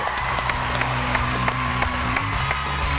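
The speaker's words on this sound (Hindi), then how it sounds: "बहुत सारी तालियां होनी चाहिए इस पे।" Studio audience applause on a Hindi television quiz game show, continuous crowd clapping mixed with steady background music, loud and even throughout.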